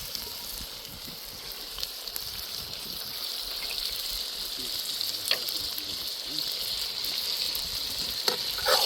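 A karahi dish sizzles and fries steadily at close range after cream is added, with a bright continuous hiss, occasional stirring clicks and scrapes, and no talking.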